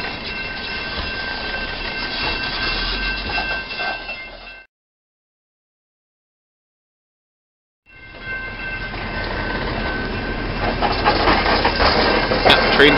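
Steady rumbling of a train passing a crossing at 26th and Pacific, broken by a few seconds of total silence midway, then the rolling rumble resumes and grows slightly louder.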